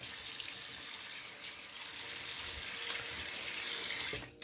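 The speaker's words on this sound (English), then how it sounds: "Let me do the rinse." Tap water runs steadily into a sink for a rinse, a continuous splashing stream at moderate level with a brief dip partway through.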